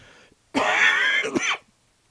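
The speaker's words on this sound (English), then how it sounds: "I'm going back to coughing" A single drawn-out, rasping throat-clearing cough, close and fairly loud, lasting about a second, with quiet before and after.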